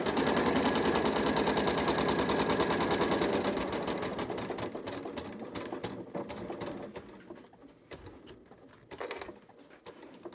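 A sewing machine stitches a quarter-inch quilt seam in a rapid, even mechanical chatter that is loud at first, then slows and thins into intermittent bursts before stopping, with small handling clicks afterward.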